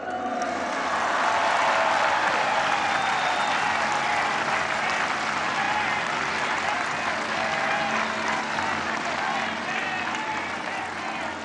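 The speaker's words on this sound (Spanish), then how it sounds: "Otro aplauso." A large crowd applauds at a celebration event for the Mexican president, with continuous, full clapping and some crowd noise that swells early and holds steady throughout.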